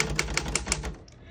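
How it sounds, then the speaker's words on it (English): Keys strike on a 1940 Royal KMM vintage desktop manual typewriter in a quick run of about five sharp, close clacks, then the mechanism settles into quiet. "We're gonna keep it on single for now and finish typing"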